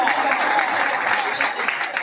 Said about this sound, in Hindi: उस्ताद दे भाई जोरदार तालियां यार